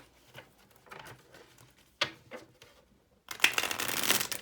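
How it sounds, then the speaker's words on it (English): Cards shuffled by hand close up: soft riffling patters at first, then a dense, louder flurry of rapid card flicks near the end. "Let's get one more good shuffle in."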